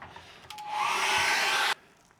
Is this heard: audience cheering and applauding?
no